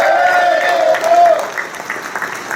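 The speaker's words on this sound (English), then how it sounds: "let's give a nice round of applause" An audience at an annual valor awards ceremony applauds firefighters being honored, loud sustained clapping with a voice over it at first, then the applause thinning toward the end.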